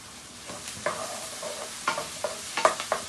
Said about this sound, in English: I'm going to continue to saute.